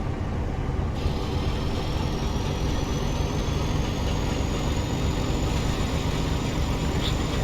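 A Class 31 diesel locomotive in Train Simulator throttles up, its engine a steady, loud, continuous drone with a faint rising whine and no talk.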